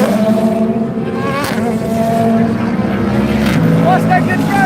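GT3 race cars, including Penske entries, a BMW and a Mustang, race through the infield at the Rolex 24 at Daytona, engines droning and whining loudly and continuously as cars pass, while a commentator talks over them.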